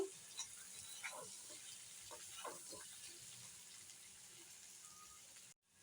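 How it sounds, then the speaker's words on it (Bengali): Pointed gourd fries in a pan with onion and green chili, giving a faint, steady sizzle with a few soft stirring scrapes, then a sudden cut to silence near the end. "এখন দিয়ে দিচ্ছি পেঁয়াজ আর হলো কাঁচামরিচ এখন এটাকে আর একটু ভেজে নেবো"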